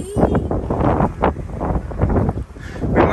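Strong wind buffets the microphone at the Corinth Canal in Greece, a loud continuous rumbling roar with gusty swells and no other clear sound.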